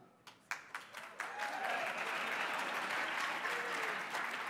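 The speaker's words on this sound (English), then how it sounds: "I got a clap from backstage," At an awards ceremony, a few scattered claps from backstage build quickly into a full, steady round of audience applause that carries on at moderate volume.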